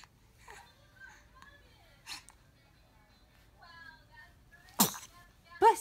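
A six-week-old baby gives small sharp sneezes, one near the end loud and close, between faint soft baby noises and quiet moments.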